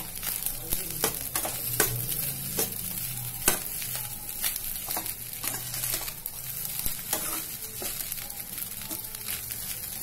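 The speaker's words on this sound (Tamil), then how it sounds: "நல்லா எக் வந்து ரைஸோட சேர்ற மாதிரி நல்லா கிண்டி விடுங்க" Egg is stirred through fried rice in a hot pan, with a steady close sizzle and repeated scraping strokes of the spatula over about ten seconds, no voices.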